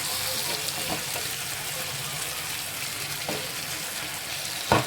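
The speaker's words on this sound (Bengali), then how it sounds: "মাছটাকেও দিয়ে দেবো। দিয়ে ভালোভাবে নাড়িয়ে নেব।" Fish is added to a curry with greens and stirred in the pan, producing a steady hissing sizzle throughout with a few faint scrapes and a louder knock at the end.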